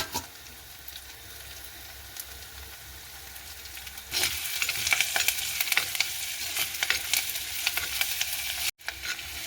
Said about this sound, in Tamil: இனி வெட்டி எடுத்து வச்சிருக்கிற பச்சை மிளகாயும் இதோட சேர்த்துட்டு கருவேப்பமிலையும் வெட்டி எடுத்து வச்சிருக்கிறோம் அதையும் இதோட சேர்த்துக்கொள்ளலாம்